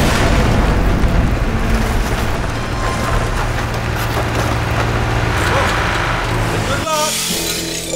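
In Portal 2, a wall's manual override rumbles with heavy, dense crashing and grinding of shifting panels, loud and close, ending in a sudden drop near the end.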